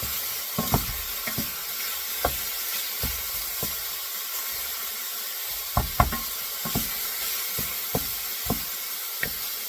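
Mild Italian sausage fries in a pan with a steady sizzle and hiss as a utensil breaks the meat apart, making irregular scraping knocks against the pan, close and with no talk.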